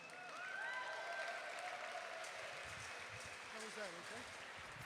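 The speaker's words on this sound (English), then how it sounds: "let's applaud yourselves" Audience applause at a robotics competition, a soft steady patter of many hands heard from a distance, with faint tonal whines and a brief voice near the end.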